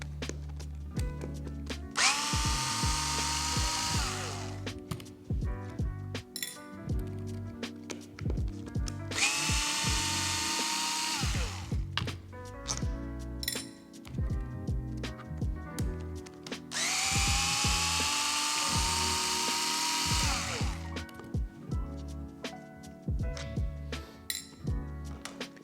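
A power driver with a 2.5mm bit whirs out screws from the transmission of an ARRMA BOOST RC car, three separate high-pitched whining bursts of a few seconds each, close up, with small metallic clinks and clatter of parts between them.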